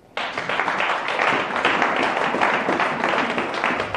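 A church congregation applauding in Rosny-sous-Bois, dense steady clapping from many people that starts abruptly and continues at an even level throughout.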